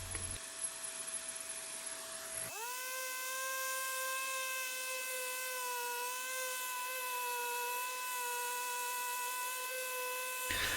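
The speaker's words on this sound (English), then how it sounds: "I'm using an 80 grit paper on an orbital sander" An orbital sander with 80-grit paper whirs to life after a moment of other noise, then runs at a steady high-pitched hum while sanding rotten wood boards, close and continuous.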